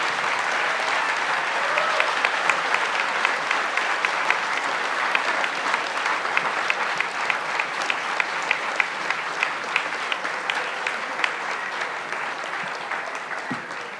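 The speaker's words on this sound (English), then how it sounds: "give them both of the candidates a round of applause, you can do so at this time." Sustained audience applause for two candidates at a congressional debate for Illinois's 13th District, a steady dense wash of many hands clapping at moderate level, continuing throughout with faint crowd murmur.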